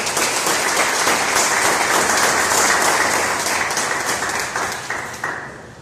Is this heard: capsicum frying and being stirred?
no